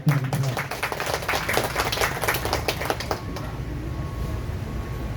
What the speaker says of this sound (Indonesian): Tepuk tangan buat perempuan.